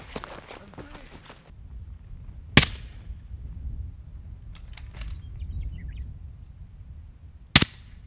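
Rifle shots fired downrange from about 220 yards with quiet rounds: two isolated sharp cracks several seconds apart, crisp but brief against a low, steady outdoor background, with faint rustling and a bird chirp between them.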